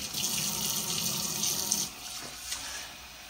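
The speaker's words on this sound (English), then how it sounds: "Yeah, add a little bit of water." Water from a tap runs steadily into a container of turkey brine, a continuous splashing rush that fades and softens toward the end, with a faint knock near the close.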